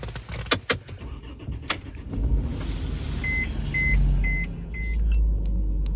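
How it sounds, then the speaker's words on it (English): A car engine starts with a few clicks of the key, then settles into a low steady idle while dashboard warning chimes beep repeatedly, close inside the cabin. "we'll go ahead and start the car."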